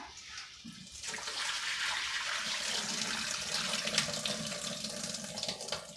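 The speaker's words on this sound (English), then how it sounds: "I'm going to drain this water off." Steady rush of water pouring and splashing continuously, fairly loud and close, as water is drained off a pot of soaked dry beans into a sink.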